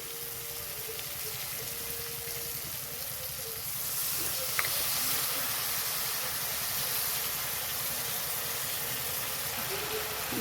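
Water hits hot turmeric and chili powder in a cooking pan, setting off a loud, steady sizzling hiss that swells after a few seconds and continues unbroken.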